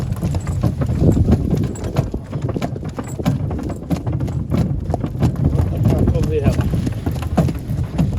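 A harnessed draft-horse mare in Ukraine clip-clops along at a steady rhythm, close and continuous, with wind buffeting and people talking over the hoof beats.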